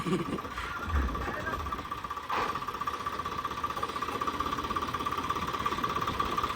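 A Swaraj 855 tractor engine runs at a steady, droning hum, with faint vibration and some background noise across the whole stretch.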